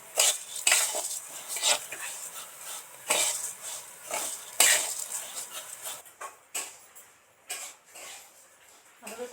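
Metal utensil scraping and clattering against a pan of dal being dry-roasted, in repeated bursts, a steady stirring rhythm with dry scratchy strokes close by.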